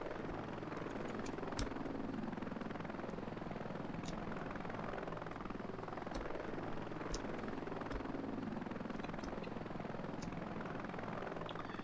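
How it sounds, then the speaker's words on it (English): Mi-8 helicopter in the Heliborne video game, big rotor blades thumping in a steady rapid beat over a continuous turbine engine whine, constant and fairly faint with no talking. "Now the MI8 is a big helicopter, big rotor blade, so it can be cumbersome at times."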